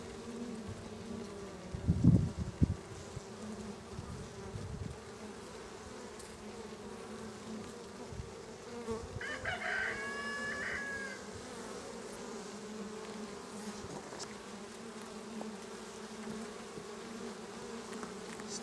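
Honeybees buzzing steadily around an open flow hive, a close, continuous hum with individual bees droning past, a few soft knocks and handling noises early on.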